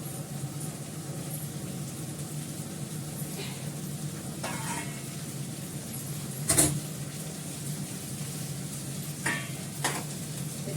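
A spice mixture with cauliflower frying in oil on the stove, soft continuous sizzle at low level with a few sharp utensil clinks and scrapes, no talking.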